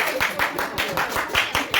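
Classroom students clap in a short, loose burst of distinct, fairly close hand claps with uneven rhythm, lasting under two seconds.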